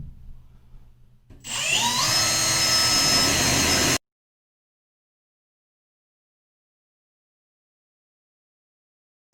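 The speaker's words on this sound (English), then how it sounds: "I like to mark the holes out with the drill so it won't slip." A power drill bites into porcelain tile to mark holes, a sharp rising whine and grinding that lasts about two and a half seconds before cutting off abruptly, followed by silence.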